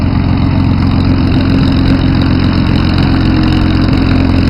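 A large piston engine on a World War II-era bomber aircraft at the Flying Legends 2011 airshow drones loudly and steadily, a close, unbroken rumble with no voices.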